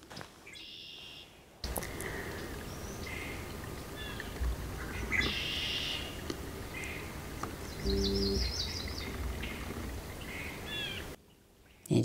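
Several birds chirp and trill in bursts over a steady low background hum, with calls overlapping at moderate distance.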